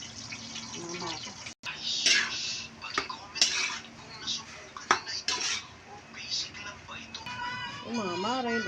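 Rice is stir-fried in a pan for a Filipino breakfast, a metal utensil scraping and clanking against the pan in irregular close strokes, with someone speaking softly over the cooking.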